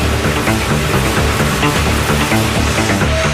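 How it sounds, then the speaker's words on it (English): A dense, continuous mechanical roar with low rumbling and steady grinding, loud and unbroken, from a giant tunnel boring machine drilling forward close by, Kuala Lumpur, Malaysia. "Ahead, the giant drill is already in motion, grinding steadily forward."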